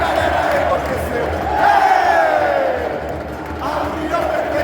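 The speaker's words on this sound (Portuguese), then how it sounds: "E a galera enlouqueceu." Botafogo fans at the Maracanã stadium roar and chant together, a dense, loud crowd sound that surges midway and stays continuous throughout.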